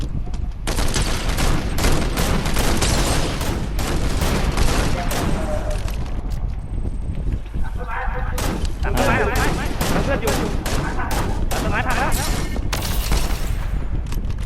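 Dense, continuous gunfire in Fortnite, with overlapping bursts and shots crackling loudly and nearly nonstop, mixed with other in-game noise.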